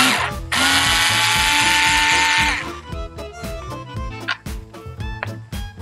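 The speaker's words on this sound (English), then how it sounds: "under there, down in there, you can see that's the first of the hex screws to undo" A power driver undoes hex screws beneath the cup holder of a Ford Transit Custom van, first a sustained high whir of about two seconds, then a run of quick ratcheting clicks and knocks, close and loud.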